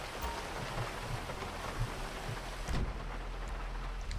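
Rain falls in GTA Online, played on PS3, as a continuous soft patter with low rumbles under it and a brief thump near the end, heard at a distance with no speech.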